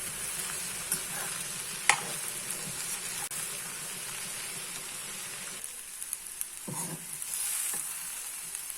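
A spiced raw jackfruit bonda filling with garam masala, pepper and asafoetida fries in a pan while being stirred, a steady close sizzle broken by occasional spoon scrapes and clacks.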